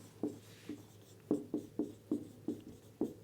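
Chalk or marker strokes on a classroom board during a physics lesson, about nine short taps and scrapes in an uneven rhythm, close and fairly quiet over a low steady hum.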